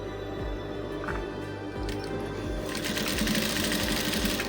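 A sewing machine stitches a dashiki seam in Ankara fabric, humming steadily at close range with a rapid mechanical needle rattle that speeds up toward the end.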